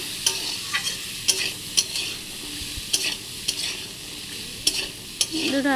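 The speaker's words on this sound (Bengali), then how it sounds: "হালকা করে একটু ভেজে নিচ্ছি আলু আর কাবলি ছোলা।" Potatoes and chickpeas fry in a pan while a utensil stirs them, sharp scraping clacks recurring every half second or so over a steady, close sizzle, with no voices.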